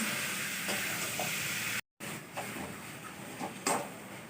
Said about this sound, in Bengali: একটু এরকম করে অনেকক্ষণ নাড়তে হবে, আমি নাড়তে থাকি